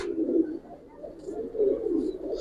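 Pigeons, Giribaz and colouring breeds, coo softly in low, rolling phrases, two repeated calls close by with little else around.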